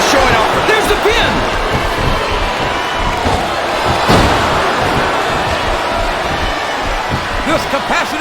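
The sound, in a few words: wrestling arena crowd in WWE SmackDown vs. Raw 2007 video game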